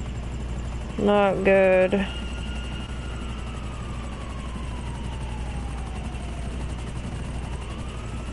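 A helicopter flies in the video game GTA, its steady low rotor drone running throughout while a brief burst of tonal sound and a short spoken remark come through over it.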